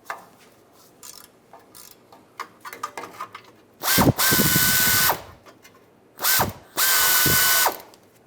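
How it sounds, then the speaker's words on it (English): Near a 1999-2006 Chevrolet automatic transmission, a tool works off the shield bolts: a series of quick clicks, then two loud bursts of power-driven whirring, each lasting about a second or more, with no talking. "Use a 10mm socket. Take these two bolts off on the side."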